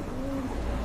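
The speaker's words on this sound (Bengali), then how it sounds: "এই যে দেখেন খুবই সুন্দর কোয়ালিটি সম্পন্ন কবুতর" Pigeons coo in a low, soft, sustained note, close by and fairly faint over a murmuring background, with no talk.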